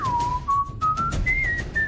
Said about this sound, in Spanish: silbando por el campo como si estuviera con sus colegas en una pachanga